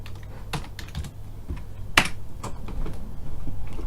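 Keystrokes on a computer keyboard, typed at a Windows 10 Run prompt: a close, irregular run of quick clicks with one sharper key strike near the middle, and no voices.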